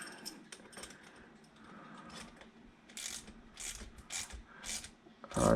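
A crescent wrench tightens a 13mm nut on a roller handle, with sparse metallic clicks and ratchet-like ticks, faint and intermittent, ending in a louder clunk.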